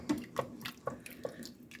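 Half a cup of water poured into a scrambled egg casserole: a few short splashy bursts and trickles, close and fairly quiet, with a sharper splash at the end.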